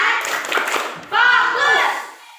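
A group of schoolchildren do a clapping concentration chant, a few sharp claps mixed in with loud chanting voices close by.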